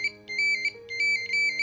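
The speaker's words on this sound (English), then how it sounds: "If you had this phone, the ringtones will bring back great memories." Polyphonic ringtone from a 1996 Motorola StarTAC flip cell phone, with bright electronic melody bursts repeating in a quick pattern, clear and close with nothing else heard.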